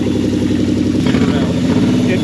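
A 2001 Nissan Pathfinder R50 with a broken, rewelded manifold runs at a steady idle nearby, a rough, continuous engine rumble with no pauses.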